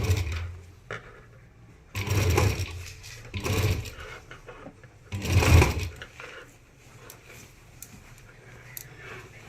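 A sewing machine stitches across waste cloth in several short bursts of rapid mechanical whirring and clatter, with quieter pauses of handling between runs, heard up close.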